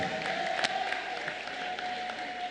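Church congregation applauding during a sermon, a steady wash of clapping from many hands filling the room at moderate level, with a faint tone held underneath and no clear talk.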